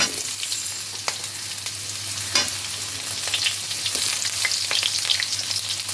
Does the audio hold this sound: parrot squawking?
no